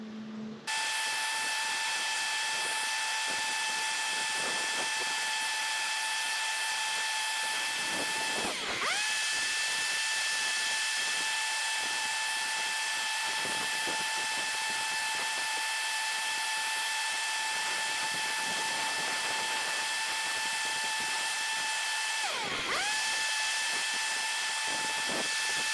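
A Cyclone Rake XL leaf vacuum drones loud and steady as it sucks up a pile of fall leaves through its accessory hose. The engine's whine holds constant and dips briefly twice as debris passes through.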